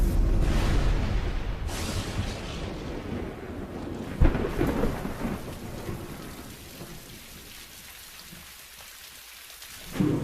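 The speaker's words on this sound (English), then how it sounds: "Tropical storms lash the planet." A tropical storm brings heavy rain and rolling thunder, with a sharp crack near the middle, loud at first and gradually easing into a softer wash before rising again at the end.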